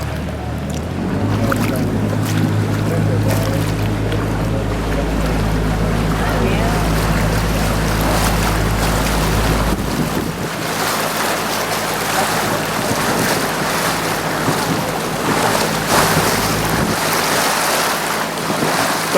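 A tour boat motors along a Bruges canal in Belgium, its engine a steady low drone with water wash and wind buffeting the microphone. A guide talks over the noise throughout.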